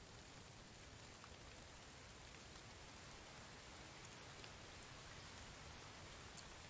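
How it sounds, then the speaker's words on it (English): Steady rainfall in the survival video game The Infected, an even, continuous hiss of drops on surfaces at low level, with no talk over it. "I need this rain to stop so I can make more water."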